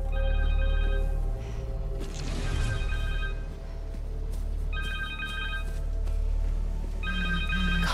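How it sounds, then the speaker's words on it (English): A cell phone rings in the game Marvel's Spider-Man 2, repeated electronic ring bursts roughly every two seconds over a low deep game ambience. "Connor's cell phone."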